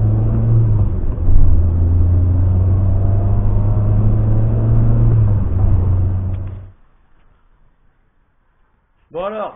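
A Citroën AX fitted with a short shifter drives along, its engine a steady low drone that rises slightly, then cuts off into near silence before a brief sound at the end.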